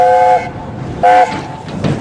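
The steam locomotive Oliver Cromwell sounds two short, loud whistle blasts while running on the Great Central Railway near Loughborough. A rumble of running wheels and carriages continues under and between the blasts.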